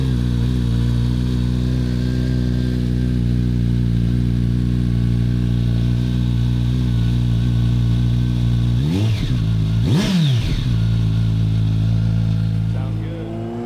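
A 2025 Kawasaki Z900 SE with an M4 slip-on exhaust idles with a deep, throbbing burble, then is sharply revved twice in quick succession before settling back, loud and close.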